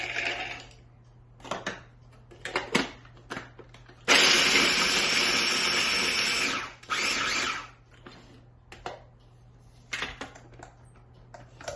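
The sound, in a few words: small food processor chopping apples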